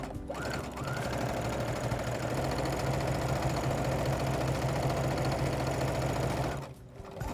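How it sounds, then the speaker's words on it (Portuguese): An SG-9000 sewing machine stitching fabric, a steady loud mechanical whir with a fast, even needle rhythm running for about six and a half seconds before stopping abruptly. "e aí você começa a costura."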